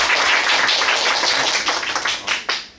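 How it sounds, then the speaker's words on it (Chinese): Audience applause welcoming a speaker after a lecture, a dense, loud burst of many hands clapping that thins out toward the end, with no talking. "我们再度以热烈的掌声欢迎他"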